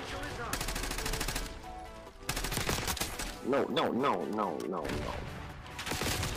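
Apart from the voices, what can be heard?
gunfire from a gun in Black Ops 6 video game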